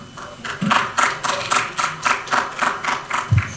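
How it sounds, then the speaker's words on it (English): Applause from a small conference breakout audience, a handful of people clapping in a fairly even, patchy rhythm, close and moderately loud, with no talk over it. "Thanks for that applause."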